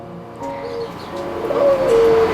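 A soft, low cooing call from a puter pelung turtle dove, a drawn-out rolling coo rising in level toward the end, heard close with no talking.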